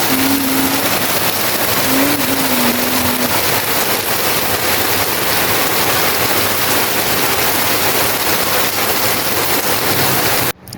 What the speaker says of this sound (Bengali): দেখি এত সুন্দর বৃষ্টি হচ্ছিল দেখেন একটু শব্দটার ফিল নেন